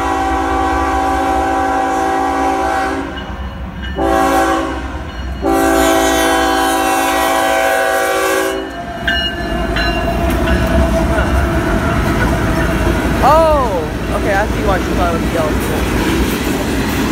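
A train horn blares in long sustained blasts, then a heavy loaded coal train rumbles and clatters past close by in Agricola, Mississippi, with squealing wheels and a steady roar.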